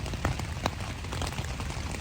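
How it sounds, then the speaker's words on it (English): Rain patters steadily on a tent fly during an Appalachian Trail thru-hike, a soft continuous hiss punctuated by a few louder individual drops striking close by. "I don't know if you can hear that, but the rain is rolling in"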